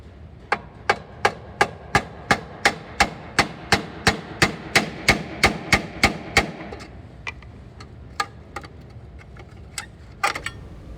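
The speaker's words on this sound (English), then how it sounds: "he's going to switch to using a chisel and use the chisel to finish off the rest of the cut" A chisel is hammered through a car body panel weld in about sixteen sharp, evenly spaced metallic blows, close and loud. A few scattered, quieter taps follow.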